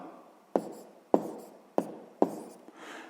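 A pen writing down an answer on paper, four sharp taps each followed by a short scratchy stroke, close and clear, ending in a softer scrawl.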